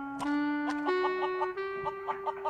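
A hen being offered for sale clucks in a short series of close, moderately quiet calls: a drawn-out tone that steps upward, followed by several quick clucks.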